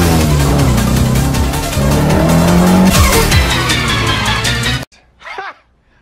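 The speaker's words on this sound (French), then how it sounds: "frein à main hydraulique, je bloque les roues" A car's tires skid and squeal as the wheels lock in a hydraulic handbrake turn: loud, continuous screeching over engine roar for nearly five seconds with sliding pitch sweeps, then a sudden cut and a brief faint sound.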